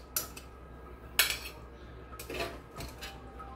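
Utensils clink against dishes while grilled squash steaks are plated, giving three or four separate sharp metallic clatters with quiet pauses between them and no talking.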